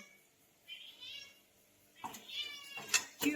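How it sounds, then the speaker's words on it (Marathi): A cat meows at someone's feet in a quiet indoor space: a few short, close meows, the first soft and the later ones louder and more insistent in quick succession. "आता हे बघा मांजर पायात म्याव म्याव म्याव करून"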